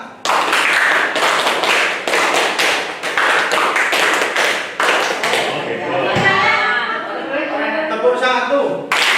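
Hand clapping done as a rhythmic group exercise in an Indonesian classroom or training session, loud repeated claps in counted bursts while a voice talks over them throughout.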